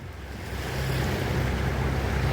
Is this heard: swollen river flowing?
yes